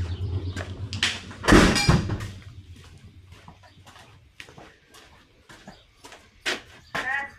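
Barn door being opened on a muddy farm after rain, a loud creaking scrape near the start, followed by scattered clucking of chickens nearby and a few knocks.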